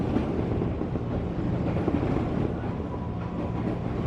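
Train running on an elevated railway track near Manggarai station in Jakarta, a loud continuous rumble with faint rhythmic rail clatter and some wind buffeting, no voices.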